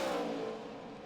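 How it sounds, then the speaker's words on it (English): A NASCAR stock car at Dover International Speedway during first practice in 2010 roars past as the only car on track, its engine a steady, loud, broadband drone that fades slightly. "Only car on the racetrack at the moment."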